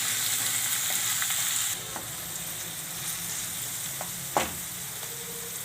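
Radish greens sizzle and fry steadily in a pan, a continuous close hiss that drops slightly in level partway through, with a couple of brief clinks from stirring.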